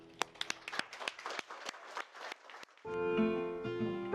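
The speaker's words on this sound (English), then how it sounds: "You may share a kiss and we will clap." Wedding guests at a summer wedding at Hornsbury Mill clap for the newlyweds' kiss: scattered, fairly sparse hand claps that fade out after about three seconds, giving way to sustained tonal music.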